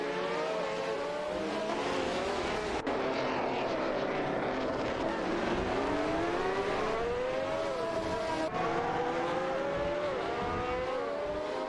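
A race car engine howls away at high revs, its pitch rising and sweeping through gear changes in a continuous loud drone, with brief cuts where it shifts.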